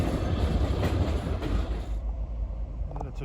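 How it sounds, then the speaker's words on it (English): A westbound Norfolk Southern freight train with SD40E locomotives rolls by on the Pittsburgh Line near Rockville, a heavy close rumble with faint clickety-clack that softens toward the end. "This most likely is a train headed west on the Pittsburgh Line."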